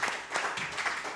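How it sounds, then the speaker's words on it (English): An audience at a book launch gives the panel a short, soft round of applause, a quiet, steady patter of many hands clapping. "give a round of applause to this panel here"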